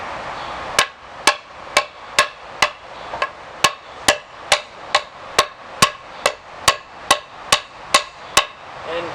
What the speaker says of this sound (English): the knife is kind of dull, and I can't find my whetstone, so I'm going to have to bear with the small amount of wood that's taking off